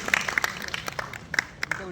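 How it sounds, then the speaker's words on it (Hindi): Applause from an audience for a speaker at a debate event, scattered individual claps at uneven intervals over the room, with a voice talking through part of it. "एक बार जोरदार तालियां प्रकाश पांडे के लिए।"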